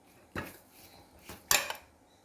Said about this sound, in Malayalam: ഇതെല്ലാം കൂടെ നമുക്ക് നന്നായിട്ടൊന്ന് മിക്സ് ചെയ്യാം